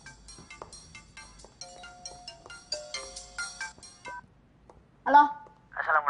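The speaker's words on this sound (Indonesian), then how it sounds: "Telepon lagi!" A telephone ringtone plays a melodic electronic tune of quick repeated tones, then stops, and a person speaks briefly.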